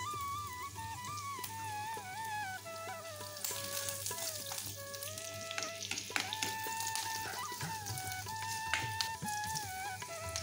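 Sliced onion and fenugreek seeds frying in a pan with a steady, crackling sizzle and occasional stirring ticks, heard under a melodic background tune with no voices.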